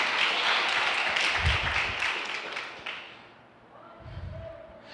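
A church congregation claps at a service, a dense wash of applause that fades out, mixed with a couple of low thuds and some voices underneath.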